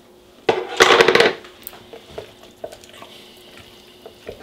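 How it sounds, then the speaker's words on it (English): Cauliflower puree for a keto dip is stirred, giving a short loud burst of scraping and clattering near the start, then fading to soft, scattered taps and wet stirring sounds, close and without talking. "I'm going to give mine a stir."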